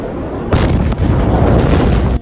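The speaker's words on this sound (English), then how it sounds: "a fire in a warehouse next to grain silos and fireworks ignited a blast so large it was felt around the entire world" Massive port explosion in Beirut, ammonium nitrate and fireworks stored beside grain silos going up; a loud, sustained broadband roar erupts suddenly and rumbles continuously for nearly two seconds before cutting off.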